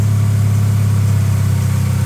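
A BMW F30 engine idles smoothly and steadily up close, a loud, even low rumble with no revving and no talk over it.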